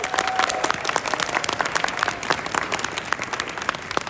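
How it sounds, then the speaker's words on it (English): Audience at the Anime Milwaukee 2022 convention clapping steadily, a dense continuous patter of many hands filling the room without pause. "Give them all a round of applause."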